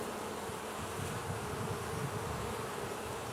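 Honey bees swarm around a hive frame filled with honey and pollen, making a dense, continuous close-up drone that stays steady throughout.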